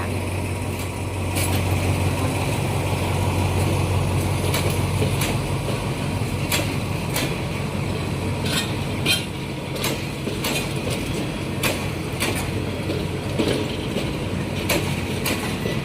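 Thai diesel passenger train hauling a full rake of Queensland carriages, ordinary service 313, rolling steadily past up close with a low engine drone and rhythmic clicking of wheels over rail joints, alone without talk.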